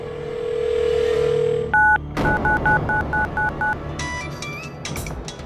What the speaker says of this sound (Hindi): स्पीकर ऑन करो, रीडायल करो।